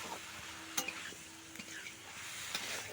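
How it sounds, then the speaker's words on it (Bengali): Vegetables sautéing with spices and tomato in a pan, a faint steady sizzle with occasional soft clicks and scrapes of a spoon stirring, distant and quiet, with no talking. "সবজিগুলোকে দিয়ে কিন্তু মশলাটার সঙ্গে এবং টমেটোর সঙ্গে ভালো করে কষিয়ে নেব।"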